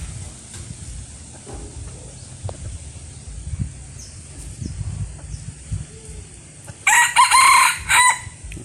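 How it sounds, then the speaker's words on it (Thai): A rooster crows once near the end, a loud, bright call rising over quiet background noise with faint scattered rustles and clucks beforehand. "นี่นะครับเสียงขันก็ประมาณนี้นะครับ"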